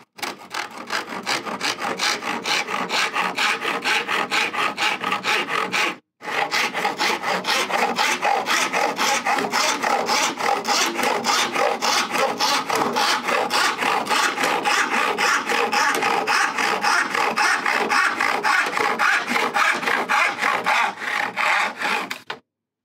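Hand saw cutting through wooden packing on an old woodworking bench, a steady rapid rasping stroke rhythm that runs loud and close for most of the stretch, broken by one brief pause early on.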